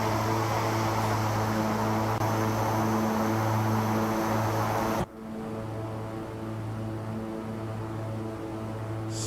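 A simulated King Air 350 turboprop drones steadily in flight in X-Plane 11, a constant propeller and engine hum with wind hiss that abruptly shifts to a quieter, muffled tone halfway through.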